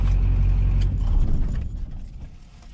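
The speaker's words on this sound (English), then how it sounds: "I have to shut the truck off real quick" A Duramax-swapped squarebody truck's engine is switched off with the ignition key: a loud, close diesel rumble that cuts out and fades over a couple of seconds, with a faint jangle of keys.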